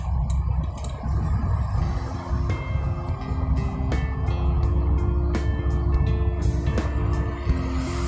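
A car driving along Avenida Expedicionário Weber in Santa Rosa, Rio Grande do Sul, changing lanes, heard from inside as a steady, loud engine and road rumble with scattered faint ticks and no speech.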